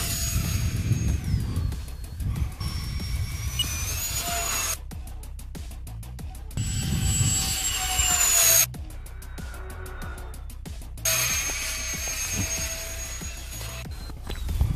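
An E-flite HABU SS 6s electric ducted-fan sport jet flies by with a high whine that rises and falls in repeated passes, broken by abrupt cutouts.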